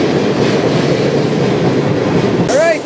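Freight train on the High Line rail route heading toward Whitefish, Montana, rolling past loud and close with a constant rumbling roar, and a brief wheel squeal rising near the end.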